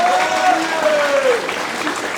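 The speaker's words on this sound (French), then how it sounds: "Un petit peu des applaudissements aussi" An audience applauds steadily at an opening ceremony, a dense, even wash of clapping that fills the whole stretch at close range with little rise or fall.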